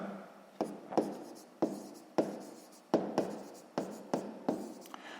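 Pen writing by hand on paper while a sixth-grade maths exercise is worked through, a soft scratchy stroke repeated in short bursts about every half second, close and clear with no talk.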